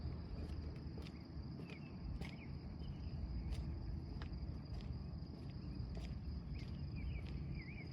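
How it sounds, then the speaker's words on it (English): Short repeated calls from what sounds like a frog come from near a river at night, over a steady insect chorus and a low background rumble. "Is that a frog that makes that sound? I think it's a frog, right?"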